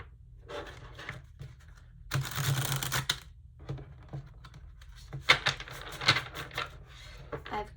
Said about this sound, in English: Going to shuffle while I tune into the energy of pile 1.